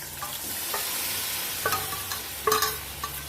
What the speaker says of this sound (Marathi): सर्व डाळ टाकून घ्यायची आपल्याला आणि एकदा परत हलवायचे अशा पद्धतीने